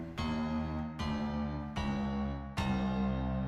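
Heavy, low drop-tuned guitar chords struck four times at an even pace, each left to ring with a thick, sustained low end and bright overtones. The source is an Ultrakill soundtrack track, played loud with no talking.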